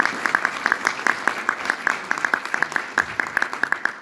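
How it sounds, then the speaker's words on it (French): Audience at a military school assembly applauding cadets, a brisk burst of fairly close claps with distinct individual hand strikes in quick irregular rhythm, no voices over it. "On peut les applaudir encore"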